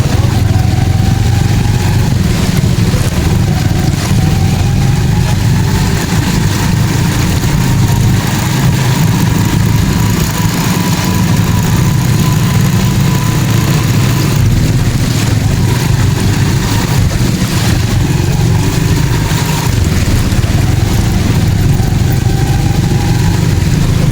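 A motorcycle engine runs loudly and steadily nearby while riding through floodwater, a rough continuous drone with slight shifts in pitch throughout.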